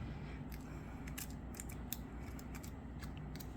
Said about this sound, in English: let me just trim for now. I'm just going to trim. Just trim all the way around for now